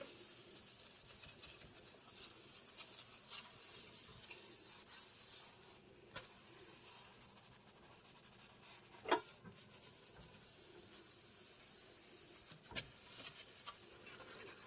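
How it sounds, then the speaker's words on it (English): Baking soda being scrubbed into a kitchen sink, a steady gritty rubbing and scouring that runs throughout, with a few brief knocks, close and fairly quiet, no voices. "I put some in each sink. And give it a deep clean."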